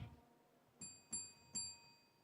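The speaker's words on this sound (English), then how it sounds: "you will hear the timekeeper do a bell sound" Three quick, bright bell dings ringing out in a quiet room, each one sharp and briefly sustained before the next.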